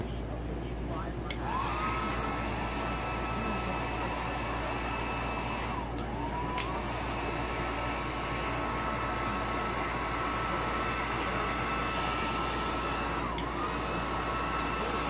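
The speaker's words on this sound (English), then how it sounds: "Let me go ahead and grab the heat gun and get some heat on her." A heat gun's steady, loud blowing roar of hot air runs throughout without pause, with faint tonal whines briefly rising and falling over it.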